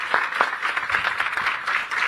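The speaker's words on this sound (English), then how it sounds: "Give Gurudev Sri Sri Ravi Shankar a big applause and welcome him to Jamaica" Applause from an audience welcoming Gurudev Sri Sri Ravi Shankar to an Art of Living event in Jamaica, a brief burst of crowd clapping at moderate volume with a few sharper claps standing out early on.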